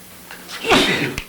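A single sharp sneeze close by, with a quick intake of breath before it, in a quiet room with low hum.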